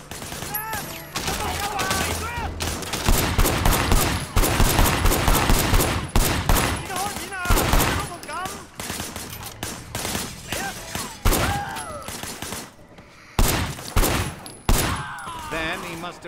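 Sustained gunfire in a shootout in Sleeping Dogs: Definitive Edition, loud rapid bursts of shots in irregular volleys with brief pauses, mixed with game voices shouting.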